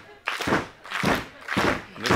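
A fighter claps his hands during a mixed martial arts match, taunting his opponent: four broad, evenly spaced slaps about half a second apart, fairly loud against arena background noise.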